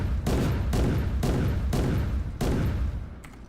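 A cannon in the Garry's Mod ACF video game fires five loud, booming shots, spaced roughly half a second apart, each with a heavy low-end blast.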